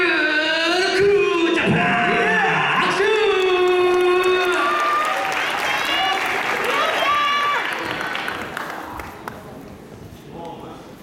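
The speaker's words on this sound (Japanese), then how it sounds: "大きな拍手で迎えてください。" Crowd applause and cheering with whoops greet a team being introduced at a dance event, loud and steady under a music-like tonal layer, then thinning out toward the end.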